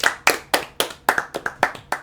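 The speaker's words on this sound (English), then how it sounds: "Let's have a round of applause" A small group claps for a new podcast guest, about nine sharp, evenly spaced claps in a steady rhythm, close and dry with clear gaps between each.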